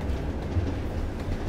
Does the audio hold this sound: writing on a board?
no